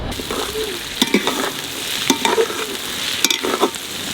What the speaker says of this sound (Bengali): পেঁয়াজটা বেশি ভাজবো না একটু সেদ্ধ হয়ে গেছে